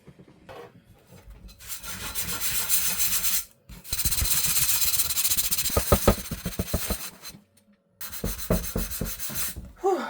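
A burnt frying pan gets scrubbed with The Pink Stuff cleaning paste in close, gritty rubbing strokes that come in bursts, with two brief pauses between runs of scrubbing.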